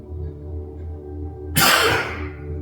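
A single sharp, loud sneeze bursts out midway through a quiet yoga session, then tails off into a fading breathy hiss.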